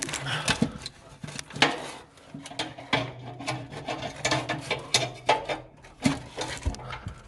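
Needle nose pliers pull a linkage pin on a Quadra-Fire pellet stove during burnpot replacement, giving close, irregular metallic scraping, rubbing and clinking in short bursts with a low steady hum underneath.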